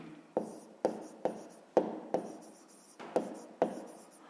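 A pen writes by hand on paper while working a fifth-grade math exercise, with sharp taps and scratchy strokes repeating in quick bursts, close and quiet, with no talking.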